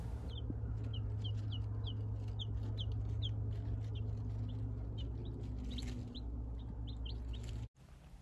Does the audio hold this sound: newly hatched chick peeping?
yes